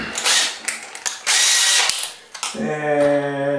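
Power drill driving a 2.5 inch screw into wood during a bathroom vanity install, whirring in short bursts then a longer grinding run that ends in a low, strained buzz as the screw bites in, close and loud.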